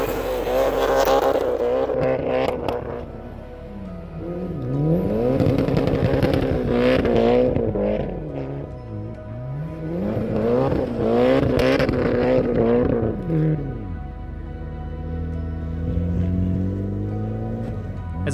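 A Mitsubishi Evo 9 MR accelerates hard through repeated rising and falling rev sweeps, the turbo engine loud and close as it pulls through gears with pauses between bursts.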